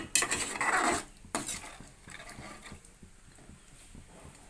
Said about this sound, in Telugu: ఒకసారి బాగా కలుపుకుని మూత పెట్టుకుని ఉడకబెట్టుకోవాలి